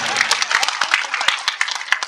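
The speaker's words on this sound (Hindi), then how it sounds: "हिम्मत अफजाई की ताली ऐसी बजाइए" Audience applause at a mushaira poetry gathering, dense rapid clapping from a crowd with a voice faintly over it, loud and sustained throughout.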